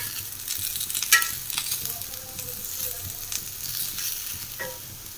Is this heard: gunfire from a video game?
no